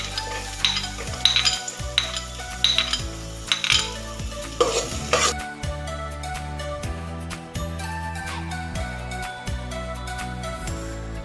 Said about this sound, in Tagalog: Ngayon, haluin natin ang bawang para hindi masunog.